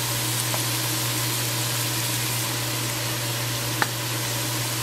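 Shrimp and mixed vegetables fry with garlic and ginger in a hot pan, giving a steady close sizzle with a low hum beneath it and a couple of faint utensil taps.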